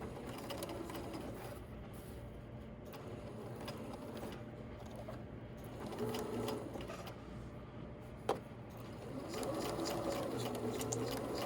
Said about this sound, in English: And you're just sewing alongside the tape.